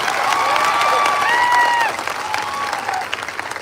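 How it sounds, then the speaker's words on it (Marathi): A large audience at a public speech in Latur claps loudly and steadily, a dense roar of applause that swells, then thins out, with a voice speaking over it near the end. "टाळ्या जोरात झाल्या पाहिजे"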